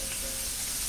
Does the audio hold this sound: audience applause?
no